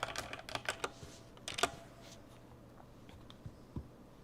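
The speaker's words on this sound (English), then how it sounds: "Sorry, my keyboard is wild." Quick bursts of clattery computer keyboard typing close by during a live chat stream, dense clicks at first, then sparser taps trailing off into quiet room tone.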